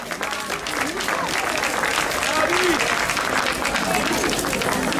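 A crowd at the Sant'Antonio fire festival in a courtyard applauds steadily, dense clapping throughout with scattered voices and cheers mixed in.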